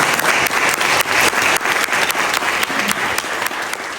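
A church congregation applauds during an anniversary ceremony, steady, close clapping with a few sharper claps standing out above the dense rhythm.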